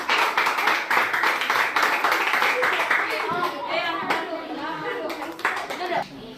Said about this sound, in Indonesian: tepuk tangan dulu dengan teman kita yang menang